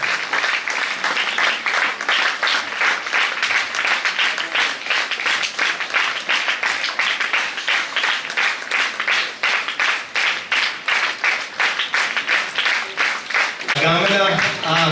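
Sustained, dense applause from a large crowd at a school award ceremony, loud and close throughout, ending with a short stretch of speech.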